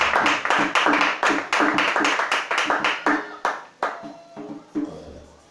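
A church congregation claps in acclaim during worship, a run of rhythmic, fairly close hand claps that thins out into scattered claps toward the end.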